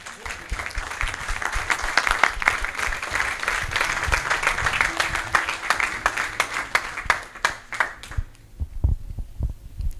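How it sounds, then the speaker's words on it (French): A church congregation in Béthune applauds during a worship service, sustained dense clapping from many hands that fills the room before thinning out near the end. "Acclamons pour Jésus-Christ."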